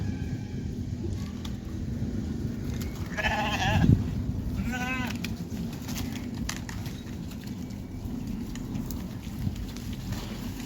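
Two short bleats from sheep in Kenya, a few seconds apart, over a steady low outdoor hum of farm surroundings near Nairobi.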